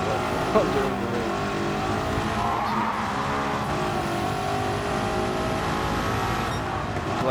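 A 1955 Mercedes W196 R race car in Gran Turismo 7 gives a sustained, loud engine drone that holds steady at high revs throughout, with a faint tire squeal.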